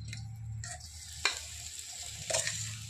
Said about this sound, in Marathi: चटणी टाकून परतून घेणार आहोत 5 मिनिटासाठी।